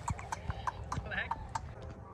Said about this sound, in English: The freaking horses were clacking.